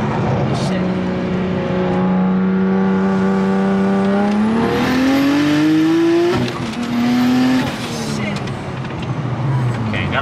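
A car accelerates hard through second gear, its engine note climbing steadily then dropping at a shift before rising again, loud and close throughout.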